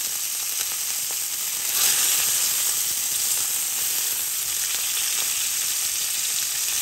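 A steak sears in a hot pan with a loud, steady sizzle and crackle that holds at near-constant loudness throughout, close up with no talking.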